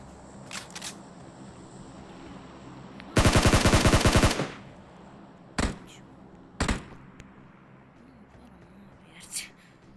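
M4 rifle gunfire in the video game PUBG: one loud rapid burst of automatic fire lasting about a second, plus several isolated single shots before and after, against a quiet background.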